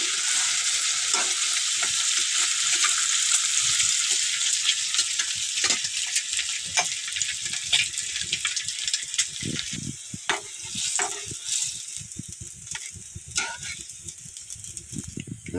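Eggs fry and get stirred in a pan, a continuous bright sizzle with scraping and clattering utensil strokes throughout, gradually easing slightly toward the end.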